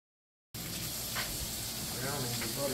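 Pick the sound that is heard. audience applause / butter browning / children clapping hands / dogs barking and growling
butter browning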